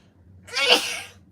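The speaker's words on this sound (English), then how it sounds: "Oh, I'm going to sneeze." One sharp sneeze, sudden and close, rising quickly and fading within about half a second against a quiet room.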